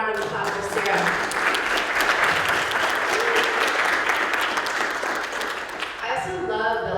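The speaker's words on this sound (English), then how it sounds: "So let's give a warm round of applause for Sara" Audience applause at a Gaza solidarity teach-in at Laney College, a dense, steady clapping from a crowd that holds loud for several seconds, then dips briefly before a few voices come in near the end.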